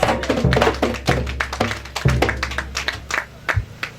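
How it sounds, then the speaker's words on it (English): Scattered hand claps and taps from a funeral service gathering, a modest round of applause with uneven, thumping claps close by, fading out toward the end. "Give her a nice round of applause, please."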